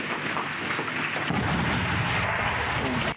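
A heavy artillery gun fires close by, its boom rumbling on and sustaining loudly through the whole moment with no voices.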